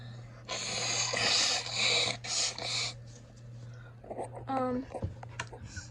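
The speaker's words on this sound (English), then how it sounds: "excuse me while I blow my nose" Someone blows their nose close up in a few loud, noisy bursts, followed by sniffing and quiet rustling.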